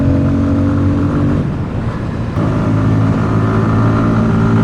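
A Bajaj Pulsar 250 motorcycle rides at speed, its engine droning loud and steady with wind rush, the pitch dipping briefly mid-run before climbing again.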